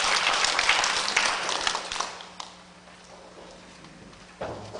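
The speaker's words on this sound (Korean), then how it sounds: "하나님 앞에 영광의 박수 올려드리겠습니다." A church congregation at a Korean afternoon worship service gives a burst of applause that is dense and loud at first, then thins into scattered claps and fades, with a brief shuffle at the end.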